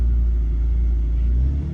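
A BMW E46 M3 engine fitted with a CSL airbox gives a loud, steady, deep rumble up close, holding an even drone before dipping slightly at the end.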